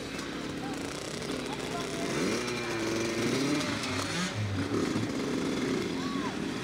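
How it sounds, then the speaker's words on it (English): A motocross dirt bike engine revs up at a motorcycle camp, a buzzing two-stroke-like drone rising and wavering in pitch, close and fairly loud, with voices and outdoor noise around it. "Here I starting my bike to go"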